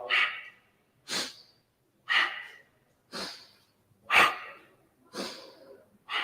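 Slow, deliberate breaths during a beginner yoga pose, each inhale and exhale a distinct airy whoosh, six or seven in even rhythm separated by silence, close to the microphone.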